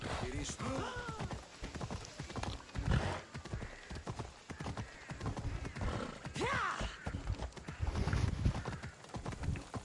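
Horse hooves clip-clopping nearby, with a few whinnies and voices talking over the steady trotting rhythm.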